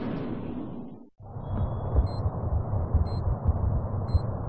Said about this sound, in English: That's the sound of a wall mine.